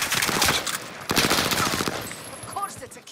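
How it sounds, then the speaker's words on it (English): Rapid automatic gunfire rattles in close bursts during a Call of Duty: Modern Warfare match on Caldera, with a voice speaking over the shots. "I'm taking fire!"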